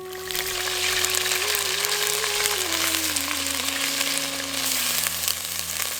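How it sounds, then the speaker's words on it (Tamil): Ginger garlic paste frying in hot oil in a pan for a village-style fish curry, a steady loud sizzle and crackle that holds evenly throughout with no talking. "சட்டி நல்லா சூடானதும் கொஞ்சம் எண்ணெயை ஊத்தி அதுல அரைச்சு வச்சிருந்த இஞ்சி பூண்டை சேர்த்துக்கலாம்"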